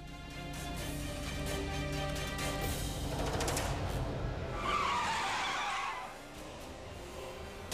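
A car with failed brakes skids on a rough, pothole-filled road, its tires squealing loudly and continuously over a running engine, with the screech swelling near the middle before dropping away.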